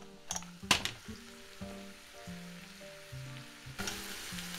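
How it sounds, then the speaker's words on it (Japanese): Vegetables sizzle steadily in butter in a hot pan over high heat with a soft crackling hiss, a few louder spatters and stirring clatters, under background music. "こんな感じのこうジーっていうこう音をこうキープするようなイメージでじっくり炒めていきます。"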